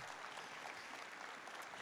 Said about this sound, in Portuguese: Aplauda ele, aplauda ele, porque é para ele.